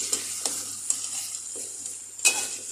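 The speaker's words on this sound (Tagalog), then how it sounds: "At tomato paste. Haluin natin." Spoon stirring tomato paste and sweet paprika into a sizzling chicken butter sauce in a pan, with soft scraping sweeps and a few sharper clinks over a steady faint sizzle, no talking.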